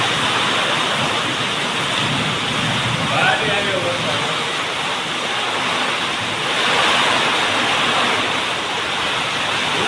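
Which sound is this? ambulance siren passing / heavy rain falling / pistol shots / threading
heavy rain falling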